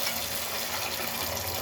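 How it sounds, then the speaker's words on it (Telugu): Water pours from a glass into a cooking pan of simmering tomatoes, a steady close gush and splash lasting a moment without speech. "2 గ్లాస్ వాటర్ తీసుకుంటాను."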